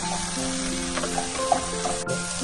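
Onion and capsicum sizzle loudly in a pan for oats upma, a dense continuous crackle with a faint hum behind it and light stirring scrapes.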